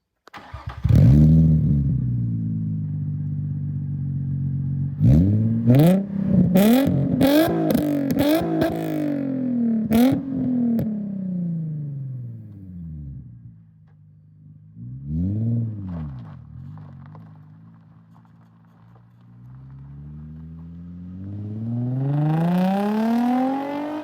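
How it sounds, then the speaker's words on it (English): A Nissan 350Z sports car engine with a loud aftermarket exhaust revs repeatedly, sharp blips rising and falling, then settles to idle before revving up again. "let's take a listen to said aftermarket exhaust"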